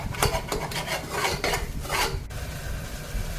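Tomatoes and green chillies sautéed in a pan, a steady close rasp of stirring and scraping with a faint sizzle underneath, no voices.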